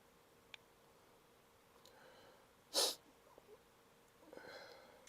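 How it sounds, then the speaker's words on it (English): A single short sneeze bursts out sharply in a quiet room, with faint ticks and breaths around it. "Sorry, but I just sneeze."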